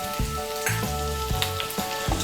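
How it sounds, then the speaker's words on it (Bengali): Potatoes and cauliflower frying with spices in a pan, a steady close sizzle with repeated stirring scrapes and clatters, no voices. "মিশিয়ে নিয়ে আলু আর ফুলকপিটাকে আর একটু মশলার সঙ্গে মিশিয়ে নিয়ে ভেজে নেব"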